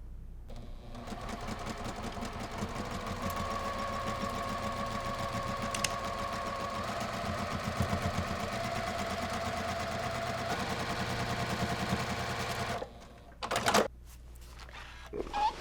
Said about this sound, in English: we're just going to sew a 1/4 inch seam right here